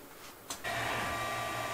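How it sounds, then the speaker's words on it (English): TronXY X5s 3D printer running its first test print, a steady motor whine and hum with faint tonal stepper lines, close and continuous after a short soft click, no talk. "So this is the first test print that I'm doing with the printer so far"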